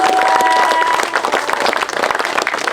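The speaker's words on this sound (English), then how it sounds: "let's have a massive round of applause to show our love and support." Applause from an audience at a couple's wedding-style celebration, a dense patter of clapping that stays loud, then thins out and becomes more scattered toward the end.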